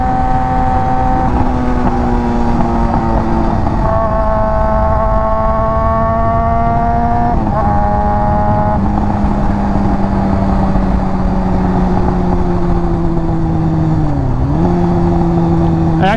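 Honda F4i motorcycle with a Radiant Cycles Shorty GP exhaust revving hard while riding, a loud sustained wail that rises and falls through gear changes, close and continuous.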